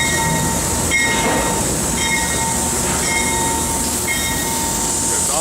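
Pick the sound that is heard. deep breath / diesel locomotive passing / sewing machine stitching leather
diesel locomotive passing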